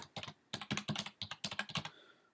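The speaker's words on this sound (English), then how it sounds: "My typing is so bad." Quick bursts of keystrokes on a computer keyboard clatter close by, in irregular clusters of sharp clicks with brief pauses, ending in a faint trailing tone.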